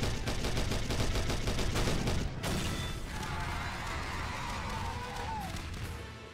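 Rapid animated gunfire rattles in fast, repeated bursts during an SMG4 Mario cartoon, loud and dense for about two seconds before giving way to a lingering noisy wash.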